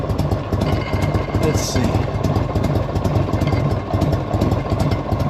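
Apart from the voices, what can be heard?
1984 Harley Davidson motorcycle engine idling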